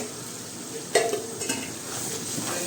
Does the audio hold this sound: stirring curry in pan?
yes